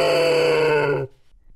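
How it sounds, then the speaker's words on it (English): A pig lets out one long, low, rough grunt-groan close by, ending abruptly and leaving faint background noise. "Pig."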